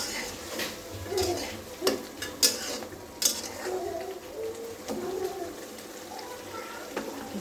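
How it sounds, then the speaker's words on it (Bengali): Masala for chicken do pyaza frying in a pan as a spoon stirs and clanks against the metal, several sharp scrapes and knocks over a low sizzle, close, with a bird calling faintly in the background. "মশলাটা ভালো করে কষিয়ে নেব"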